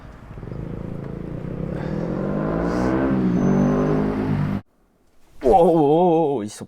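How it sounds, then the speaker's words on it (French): A motorcycle passes nearby on a road during a long bike ride, its engine note swelling and rising in pitch over several seconds, cutting out abruptly, then a brief wavering burst of sound follows. "c'est juste une moto à côté"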